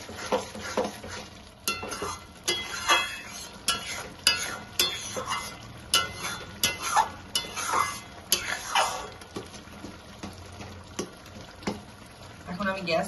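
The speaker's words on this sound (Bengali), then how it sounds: "এইভাবে একটু ডালটা নাড়তে হবে।" Spiced mashed red lentils stirred in a pan on the stove, a spoon scraping and knocking through the thick dal in uneven bursts with a soft background hum and no talk.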